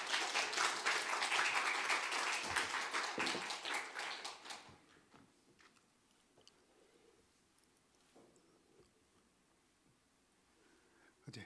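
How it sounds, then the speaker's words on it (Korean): Audience in a church service clapping, a dense burst of applause for about four seconds that fades into quiet room sounds with scattered taps. "우리 박수로 원로 목사님 한번 모실까요?"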